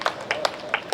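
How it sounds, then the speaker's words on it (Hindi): Audience applause for Hindi humour poet Sumitra Saral: a short burst of scattered, uneven claps at a live poetry event, moderately close. "जोरदार तालियां सुमित्रा सरल के लिए।"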